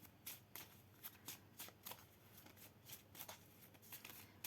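Tarot cards are riffled and shuffled by hand in quick, soft, papery bursts, close and quiet, with no voice over them.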